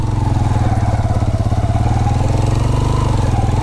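Motorcycle engine laboring uphill on a rocky mountain jeep track, a loud close steady throbbing putter with rhythmic pulsing and no speech.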